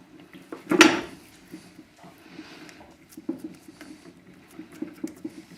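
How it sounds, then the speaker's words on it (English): A knife slicing a rolled log of polenta into pieces: one louder soft squishy cut near the start, then a series of faint, quiet taps and presses against the board. "then I'll just take the knife"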